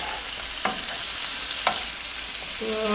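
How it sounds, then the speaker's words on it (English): Garlic sautéing in olive oil for a spinach and artichoke dip gives a steady soft sizzle, broken by a few sharp utensil taps against the pan and a brief tonal ring near the end. "So we're just going to saute this for a bit."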